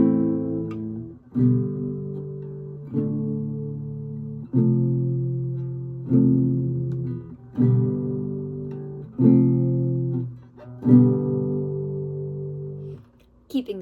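Guitar chords from a song, each struck with one downstroke at every chord change, ring out in an even sequence of about eight sustained strums spaced roughly 1.5 seconds apart, close and unaccompanied.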